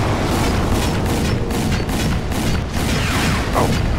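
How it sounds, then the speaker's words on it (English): Gunfire in the shooter video game Crysis 2, dense and loud with rapid repeated shots and booming blasts running continuously. "I'll probably carry on shooting for a good 30 seconds after they're all dead"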